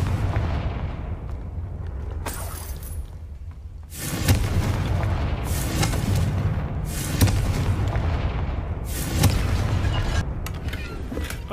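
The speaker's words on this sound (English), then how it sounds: "what is causing those explosions down below us?" Repeated heavy video-game explosions in Hogwarts Legacy boom one after another, each a loud burst with rumbling tails, over a constant low background rumble; no talking.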